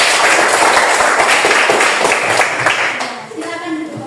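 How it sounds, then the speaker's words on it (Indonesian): A classroom of students claps together in a loud, dense burst that holds steady for about three seconds and then fades. Faint voices follow at the tail. "Tepuk tangan kita semua."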